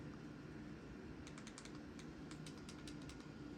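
Small plastic button clicks from an Apple Siri Remote come in quick, light bursts, faint and close against a steady background hiss, with no voices.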